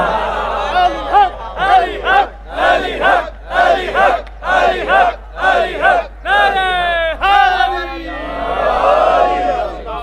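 A large crowd at a Shia Eid gathering shouts religious slogans in unison, a loud series of short rhythmic chanted bursts followed by a longer swelling shout.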